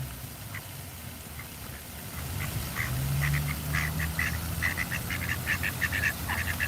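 Outdoor scene with ducks quacking in repeated short bursts, getting busier over several seconds. Geese are gathered nearby, and a steady low rumble of crowd or traffic noise runs underneath.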